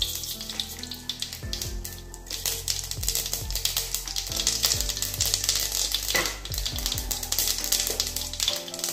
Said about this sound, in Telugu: ఇది నెయ్యితోనే తాలింపు చేసుకోవాలి. ఇప్పుడు దీంట్లో కొన్ని ఆవాలు,